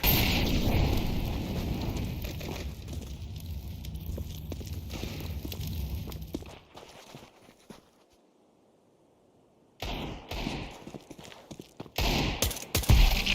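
Gunfire and grenade blasts from Counter-Strike 2 gameplay, with an incendiary grenade thrown: loud dense bursts of shots and explosions, then a near-silent stretch before more sharp shots crackle in.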